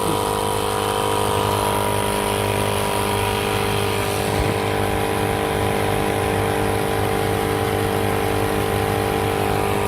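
A car engine idles steadily after being started during a brake fluid change, a continuous mid-pitched hum that holds evenly and loudly throughout with no speech.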